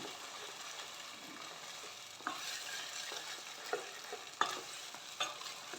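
A snack mixture with papaya is stirred in a pan over a medium flame, giving a steady sizzle of evaporating water and intermittent scraping clicks from the spoon, close and moderately loud.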